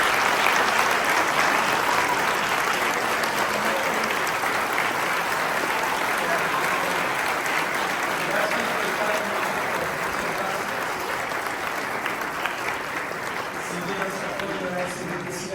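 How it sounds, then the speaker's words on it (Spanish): Sustained audience applause at an annual Holocaust remembrance commemoration, honouring survivors' children and grandchildren as they stand; dense, even clapping from a large crowd, holding steady and easing slightly toward the end. "podemos darles un aplauso"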